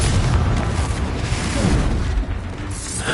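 Continuous heavy booming blast from an Expulso spell explosion in the Hogwarts video game, a loud rumbling burst that stays dense and low across the whole moment with no clear gaps.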